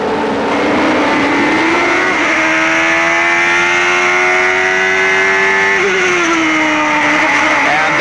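1991 CART IndyCar race cars at Mid-Ohio stream past in a loud, continuous pack, engines screaming with rising and falling pitch as the field goes by close up.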